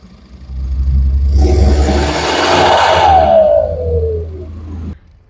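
A modified Tata Nexon car engine being revved, a loud close roar that builds quickly, holds steady with a deep rumble for several seconds, then cuts off sharply.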